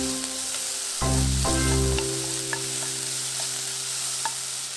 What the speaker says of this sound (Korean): 여섯 번째, 고기 볶아줍니다.